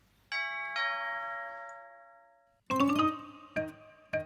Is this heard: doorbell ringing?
yes